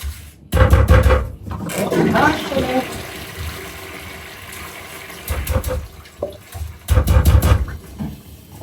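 A toilet flushes with a loud rushing gush of water, then a quieter stretch before another surge of flushing water, all close by in a small room.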